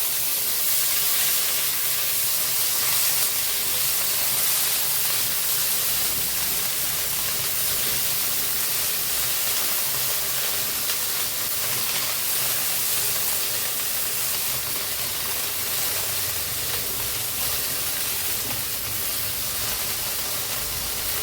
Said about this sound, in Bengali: পেঁয়াজটা লাল লাল করে ভাজি করে নেব।